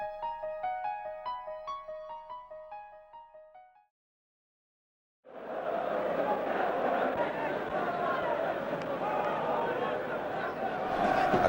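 A large football crowd of about 55,000 at Hillsborough Stadium in 1976–77 with Leeds United playing, a dense, steady roar that fills the second half after a short musical passage and a few seconds of silence.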